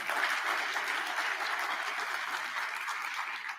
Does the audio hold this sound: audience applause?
yes